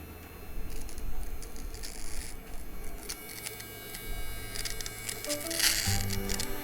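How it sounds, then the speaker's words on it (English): A small electric nose hair trimmer buzzes steadily up close, its whine shifting slightly as it moves, with faint scratchy contact sounds. "I would say the nose trimmer works and it's pretty good"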